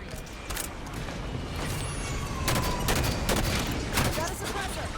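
Rapid gunfire rattles in the video game Halo 5: Guardians during a firefight in an enclosed area, with scattered sharp shot bursts over a busy rumbling game soundscape, fairly close and continuous.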